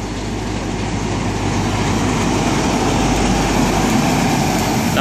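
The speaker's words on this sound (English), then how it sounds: "we've got a Great Western Railway service coming in" A Great Western Railway passenger train arriving at Tiverton Parkway station rumbles steadily close by with a loud, continuous roar of engine and wheels, and no voices.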